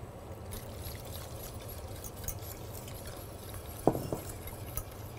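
Water poured into a cooking pot holding frozen raspberries and sugar for a raspberry coulis, a steady soft pouring wash with one brief clink partway through and no talk.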